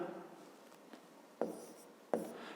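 A pen scratches faintly on paper while a math exercise is written out by hand, with soft continuous strokes broken by two sharper taps near the end.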